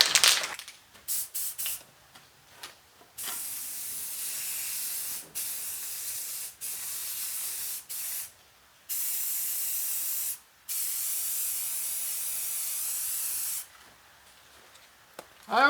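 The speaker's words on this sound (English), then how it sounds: "Put on my respirator and we'll spray it down." Spray paint hisses onto an aluminum boat in a string of steady, sharp bursts, each lasting a second or several seconds, separated by brief silent pauses, close and fairly loud with no talking.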